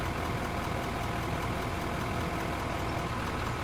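A tractor engine drones steadily in a video game, a dense, unbroken mechanical rumble at constant loudness with no pauses or speech.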